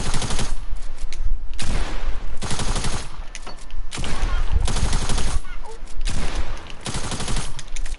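Attack SMG firing in Fortnite, loud rapid bursts of automatic gunfire repeating in several volleys separated by brief pauses.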